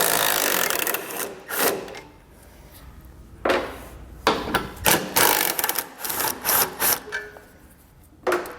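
Socket wrench turning out 15mm bumper beam bolts on a 2018 Ram ProMaster City, heard as a run of close, uneven scraping and clicking bursts separated by brief pauses, with no talking.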